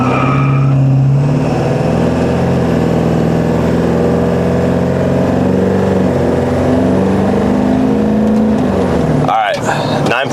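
A 7.3L Powerstroke diesel truck fitted with a larger turbo accelerates hard, engine droning loud and steady with rising tones throughout, then cutting off abruptly near the end.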